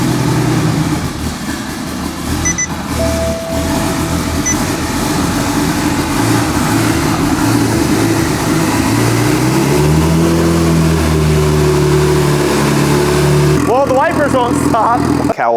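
A single-turbo BMW 135i heard from inside the cabin: the engine cranks and fires, settles into a rumbling idle, then climbs through a few rising revs near the end, loud and close. A voice talks over it early on.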